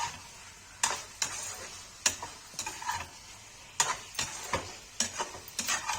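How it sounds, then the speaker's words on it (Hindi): Masala and paneer are sautéed in a pan for a simple Kashmiri paneer curry: a spoon scrapes and knocks in a quick, uneven rhythm over a faint sizzle, close by and with no speech. "मसाला मेरा भून गया अच्छे से।"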